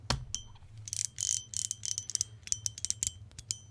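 Small metal parts of a Sao EDC Dorayaki haptic fidget coin are fitted together and locked into place, giving a close, quiet series of sharp clicks and ratcheting snaps in irregular bursts, with no talking.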